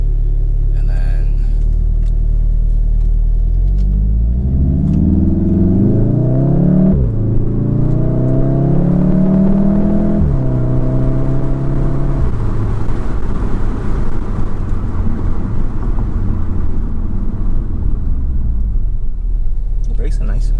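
A 2019 Subaru WRX with a Remark Stealth Edition axleback exhaust pulls away in race mode, its deep engine rumble climbing steadily in pitch through the gears and easing off near the middle, loud and close throughout.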